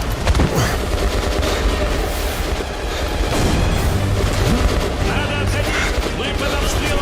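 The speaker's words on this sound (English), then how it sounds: "Мы под обстрелом с двух сторон." Gunfire in the video game Metro Last Light comes as loud, close bursts of shots and rattling fire over a rumbling battle background, with voices talking now and then.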